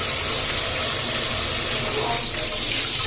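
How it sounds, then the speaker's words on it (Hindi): Tap water runs steadily into a kitchen sink while a cooking pot and a flat griddle pan are washed beneath it, a continuous close hiss of flowing water with no talk. "ये देगची और ये तवा धो दो"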